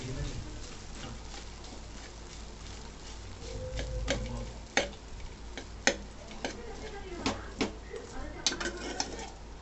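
A spoon scrapes and taps a pan while idli upma is mixed with salt, with soft ticking clinks over a low, steady background hiss, faint and close.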